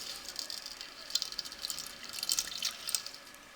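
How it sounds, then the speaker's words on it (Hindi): Half a cup of lukewarm water is poured into a flour mixture for puri dough, a thin close trickle with bright splashy drips rising and falling for a few seconds, with no talking. "अब इसमें हम हाफ कप पानी शामिल कर देंगे।"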